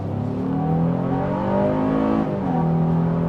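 A 2025 Honda Ridgeline Sport's V6 engine accelerating hard, its steady, loud, close roar rising and falling in pitch as it pulls through the gears, with no talking over it.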